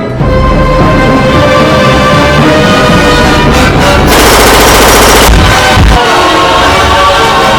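Rapid automatic gunfire from a machine gun in an animated cartoon, a loud continuous burst of dense shots filling most of the clip over a busy music and effects bed.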